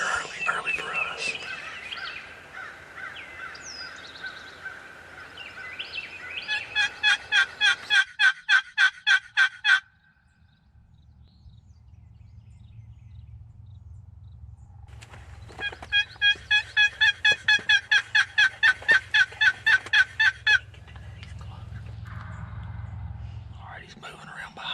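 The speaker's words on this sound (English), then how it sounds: "He started gobbling right here, and it sounded like he was moving this way a little bit." A wild turkey gobbles twice in the woods during turkey season, each a rapid rattling burst of about three seconds, distant but clear. Soft whispering talk comes before the first gobble and a low rumble runs under the second.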